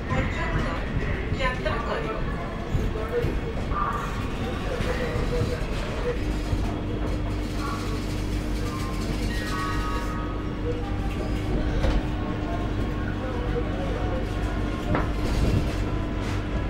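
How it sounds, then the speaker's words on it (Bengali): A Howrah–Puri train after leaving Howrah station sends a steady, low rumble and hum through the carriage, with a constant rolling noise under people talking. "ট্রেন আমাদের ছেড়ে দিল এক্স্যাক্টলি রাইট টাইমে 6:10 হাওড়া স্টেশন থেকে পুরীর উদ্দেশ্যে"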